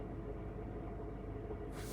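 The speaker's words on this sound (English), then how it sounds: "So this noise has to do something with the bearings in the transmission area" A Honda Civic LX with 360,000 miles idles with a steady low drone and rumble from a worn transmission bearing. The hum is continuous and even throughout, with no voices.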